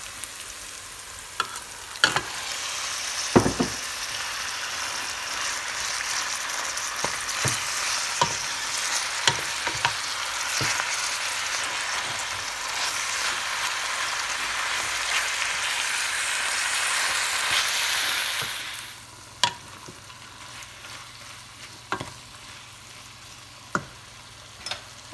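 Browned golden onions frying with minced kefta meat for lasagne, a broad steady sizzle for most of the stretch before dropping away, punctuated by sharp spoon taps and stirring clicks, close and alone with no talking.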